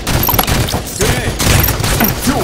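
Halo 5 multiplayer gunfire, a dense, loud burst of rapid shots and explosive crackle filling a short stretch of a competitive match.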